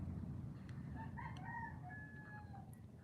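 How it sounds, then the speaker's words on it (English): A rooster crows a few times in the distance over a steady low background hum, the calls drawn out and moderately faint. "I hope you guys can hear the roosters really well."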